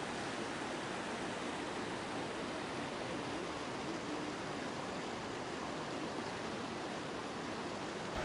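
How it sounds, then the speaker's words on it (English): Öxarafoss waterfall pours down the rock face of a continental fissure at Thingvellir, Iceland, a steady, even rush of water at low level with no voices. "The picturesque waterfall flows down the rock face of the continental fissure"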